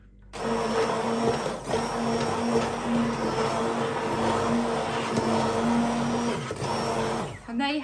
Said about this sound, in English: grab your favourite hand blender